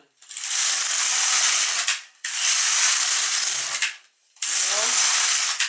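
LK150 knitting machine carriage pushed across the needle bed: three long, close ratcheting sweeps of about two seconds each, with brief pauses between passes.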